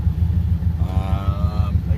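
A 1600cc VW Bug engine idles on a Dynojet dyno with a steady, loud, low pulsing throb, and a voice speaks briefly over it.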